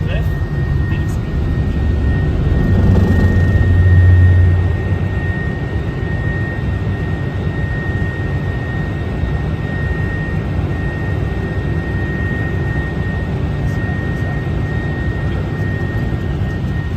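Boeing 747 jet engines roaring through a snowy takeoff, heard from inside the cockpit as a loud, steady drone with a constant whine. The thrust swells briefly early on.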